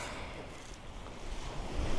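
Sea waves wash onto a Southend beach at high tide, a steady broad rush of surf with wind buffeting the microphone, swelling slightly louder toward the end. No one speaks.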